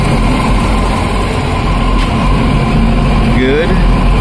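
Several Yamaha outboard boat motors idle together in a steady, loud, low rumble, with a brief rising whine near the end.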